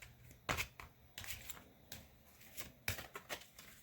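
Oracle cards being shuffled by hand, a run of crisp papery riffles and slaps in bursts with short pauses, close and alone.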